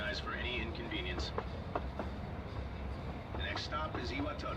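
Train running in Persona 3 Reload, a steady low rumble of rail travel with faint clicks throughout, under soft voices and chatter.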